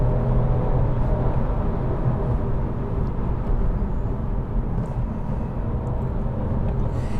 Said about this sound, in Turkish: Hadi şöyle biraz gazlayalım. Biraz daha size göstereyim. Sesini dinletiyorum ve ben susuyorum.